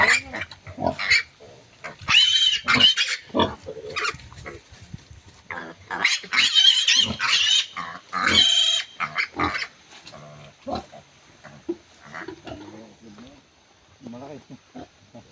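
Native pigs grunt and squeal loudly up close in bursts, with a person talking in between and a few quieter snorts trailing off toward the end.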